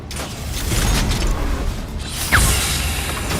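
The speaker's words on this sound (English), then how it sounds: "And then they shoot the spikes." A spike trap fires in the video game Meet Your Maker, giving a short mechanical whoosh and clank with a sharp metallic hit partway through, loud and close.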